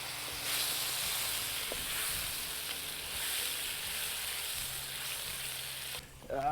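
Whole peeled tomatoes sizzle in a hot pan, a steady soft hiss and crackle of frying that holds for several seconds, with a brief stir-like clatter near the end.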